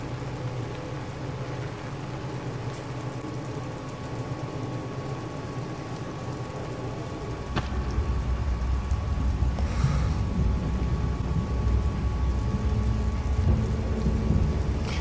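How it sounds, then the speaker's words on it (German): Steady rain patters and drips on a raincoat in the video game Little Nightmares, a dense wash of droplets that grows louder partway through, with a low rumble underneath. "wie das auf den Regenmantel tropft"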